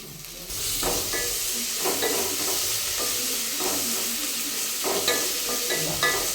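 Ginger paste fries in a pan for vegetable rice, a dense, close sizzle that runs throughout, broken by repeated scraping and stirring strokes.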